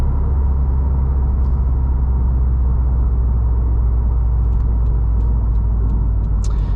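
A 2020 Subaru WRX STI Limited cruising in sixth gear near 2,000 RPM at about 50–55 mph, heard from inside as a steady low engine drone and road rumble with a few faint clicks late on.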